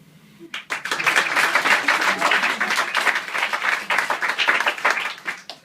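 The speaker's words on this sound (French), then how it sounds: "j'aimerais savoir par applaudissement qui ne me connaît pas." Theatre audience applauding at a comedy sketch show, a dense wash of clapping that swells in quickly after a brief quiet start and holds steady and loud throughout.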